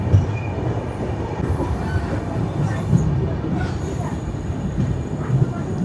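The Kanyakumari–Dibrugarh Vivek Express rolls past at close range, a loud, steady rumble of wheels on rails with a metallic squeal running through it and no break for the whole stretch.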